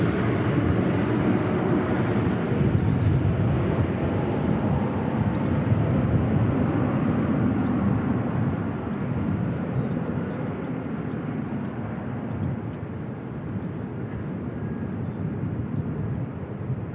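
A Boeing C-17A military transport jet arrives at Christchurch Airport, its engines a loud, broad, sustained roar that holds steady and then eases slightly as it passes.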